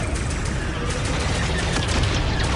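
Rapid blaster fire in Star Wars Outlaws, a dense continuous fusillade of shots with booms beneath, loud and sustained throughout with no clear pauses.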